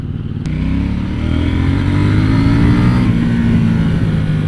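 A 2018 KTM Duke 790 motorcycle in street mode revs loudly and close by. Its deep, steady engine rumble builds and holds throughout with no talking.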